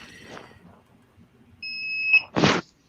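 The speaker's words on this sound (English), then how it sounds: "Prusa beeps are very loud." A Prusa 3D printer gives a loud, steady electronic beep lasting about half a second, followed by a short burst of noise, against a quiet room background.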